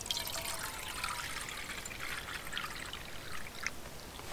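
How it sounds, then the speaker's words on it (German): Water poured from a tap into a pot in a home kitchen, a steady close trickle and stream lasting throughout with no talk. "Weil den mache ich mit Wasser voll"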